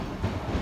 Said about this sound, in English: our train one stop along the line, the 1352 Greater Anglia service from London Liverpool Street to Cambridge North